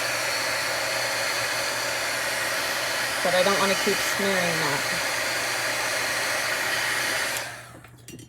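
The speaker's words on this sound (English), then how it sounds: "I'm gonna dry it just a little. I won't do this long because I know mine is not quiet." A hot air tool blows steadily to dry craft work, a loud continuous whooshing drone that cuts off near the end, with someone speaking briefly over it midway.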